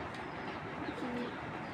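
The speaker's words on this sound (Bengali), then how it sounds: "এটা হলো বুরান জাতের চড়ুই পাখি একটা মাদি" A female Chorui-breed pigeon gives a brief, soft coo, faint under a constant wash of background noise, with no voices.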